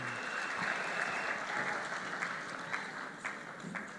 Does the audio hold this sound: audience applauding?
yes